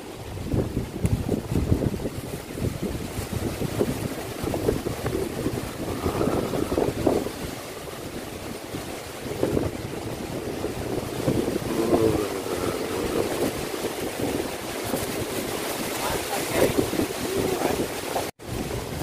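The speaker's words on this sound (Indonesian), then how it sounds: "Sekarang angin kuat gila kat atas ni." Strong gusting wind buffets the microphone on a hilltop during a climb of Bukit Repin, a continuous loud rumbling roar that swells and eases with no talking.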